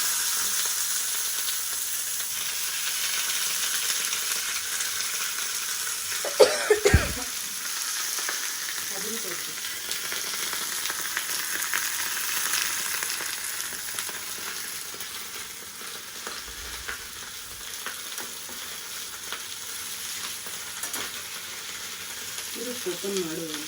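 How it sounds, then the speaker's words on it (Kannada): Fish frying on a banana leaf in a pan, a steady soft sizzle running throughout, moderately quiet, with a couple of brief clattering knocks partway through. "ಬಾಳೆ ಎಲೆ fish fry first time try."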